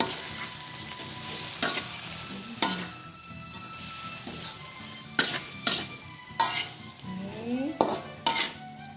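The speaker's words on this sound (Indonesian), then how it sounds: "Dan baru kita aduk" Tempe and anchovies are stirred in a pan with the stove just switched off, giving a soft ongoing sizzle broken by repeated close metallic scrapes and clanks of the utensil against the pan, with no talk.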